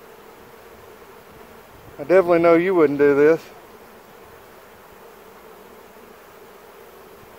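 Honey bees at a cell starter hive give a constant low buzzing hum throughout, with someone speaking briefly in the middle over it.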